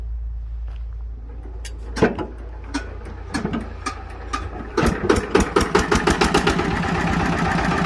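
An old Yanmar 11 hp walking tractor engine is hand-crank started, slow isolated knocks quickening into a rapid, steady chug as it catches, loud and close with no talk.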